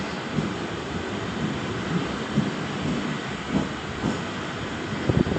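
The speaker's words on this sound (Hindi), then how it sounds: "Keep away from the edge of platform number 1. Fast train is passing." A fast train thunders past a railway station platform, a loud continuous rumble and rattle of wheels and carriages with periodic clacks, close and steady, no voices.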